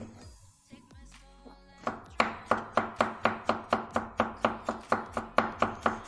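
A knife chops garlic into small cubes on a board in a home kitchen, a fast steady run of crisp, evenly spaced chopping strikes close up, with no talking.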